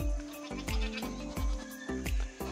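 Goats bleat repeatedly at close range in their pen, several wavering calls in quick succession with short gaps between them.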